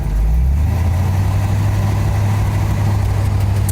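A 1956 Chevy engine idles steadily at close range, producing a loud, continuous low rumble with a constant hum and no pauses.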